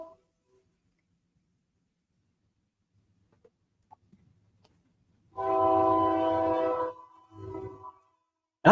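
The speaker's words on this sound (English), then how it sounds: "Sounds like trains are rolling." After near silence, a distant train horn sounds one long blast and then a short one, with a faint rumble beneath.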